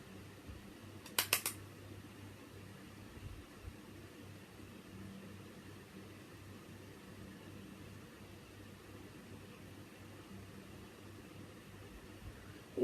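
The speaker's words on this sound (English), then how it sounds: "If you can hear a bit of a humming noise, it's just the fans on." Two small fans running in a room, a faint steady hum with a low drone throughout, a brief clicking rustle near the start and no voices.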